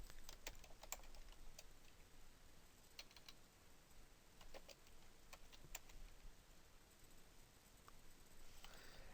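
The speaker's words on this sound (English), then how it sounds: "we are going to then just kind of type in our subject matter here" Typing on a computer keyboard into a search page: a steady run of quiet, close key clicks with irregular rhythm and a few sharper taps, over a faint hiss with no talk.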